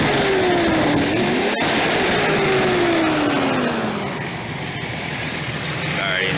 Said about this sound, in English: I'm gonna go ahead and give the car a little bit of gas